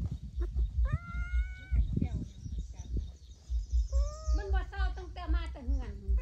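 A cat meows a few times, drawn-out and close, in between short bits of speech and soft background noise.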